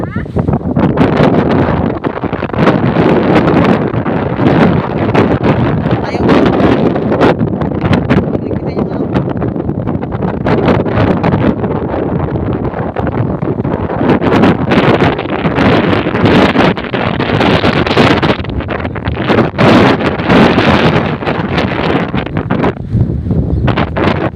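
Strong wind from Typhoon Teno batters the outside of a house, a constant loud roaring buffet with gusty rustling throughout, while a person talks under the noise.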